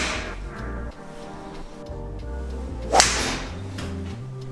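A fairway wood strikes a golf ball during a club fitting. There is one sharp, bright crack near the middle, over a steady low hum of background noise, with no talking.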